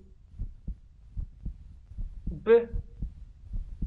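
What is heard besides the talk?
fast heartbeat sound effect in the video game Super Normal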